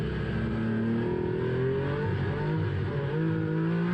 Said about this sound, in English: Listen to the throttle input out of this final corner.